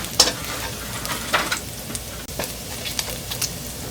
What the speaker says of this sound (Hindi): 2 गार्लिक डाल दें। इसको सौटे करेंगे जब तक इसमें अच्छी सी खुशबू ना आ जाए।